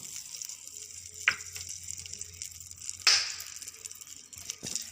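Butter and oil sizzling in a cooker on a gas stove, a soft, faint crackling hiss with a couple of sharper pops and spatters standing out.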